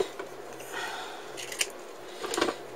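Scissors snipping material for a handmade miniature lamp, a few short, crisp cuts close by over a faint background hum.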